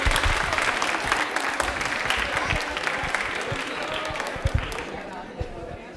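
An audience at a railway quiz program breaks into dense, lively applause that runs throughout, with some louder individual claps standing out near the end as the clapping thins, and a voice talking over it.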